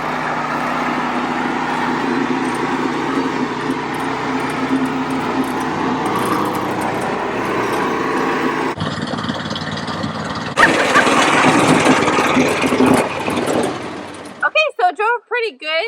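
A small Humpty Dumper mini crawler dumper drives along with its engine droning steadily, then shifts to a rougher, louder running note near the end, with people talking over it.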